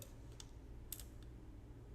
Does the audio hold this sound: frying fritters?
no